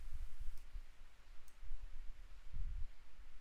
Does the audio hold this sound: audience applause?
no